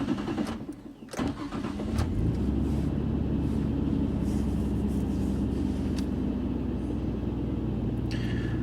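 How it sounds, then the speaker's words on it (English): A Nissan Skyline R34 GT-R V-Spec engine cranks over and catches around the two-second mark, then settles into a steady, loud idle with a low continuous rumble. "I'm going to start up the car."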